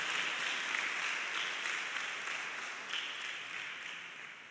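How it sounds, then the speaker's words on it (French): Steady applause from an audience honoring the parents of top baccalaureate and BEPC laureates at a presidential ceremony in Benin, a broad continuous wash of clapping that slowly fades over the few seconds with no voices. "On va applaudir les parents aussi"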